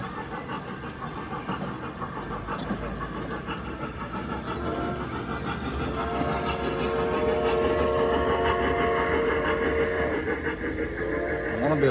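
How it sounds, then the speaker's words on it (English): A train rolls past nearby with steady rumbling and clatter that grows louder toward the end, heard from a parked or slowly moving vehicle, with faint tonal squeal or horn-like lines. "the train's kind of blocking the view right now. That train's pretty cool."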